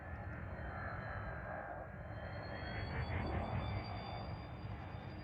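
Spaceship engines held at full throttle in the Elite Dangerous video game, a steady broadband jet-like roar with a faint high whine, continuous and fairly loud throughout with no voices.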